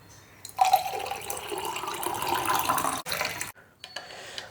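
Cold water pours steadily into tulsi juice, a continuous splashing trickle that is close and fairly clear, then stops abruptly near the end with a few faint drips afterward.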